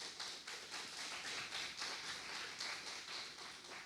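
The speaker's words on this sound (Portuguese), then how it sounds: "Vamos aplaudir a Deus?" A church congregation claps in praise to God, a quiet, steady stretch of many hands clapping together with a loose rhythm and no talking over it.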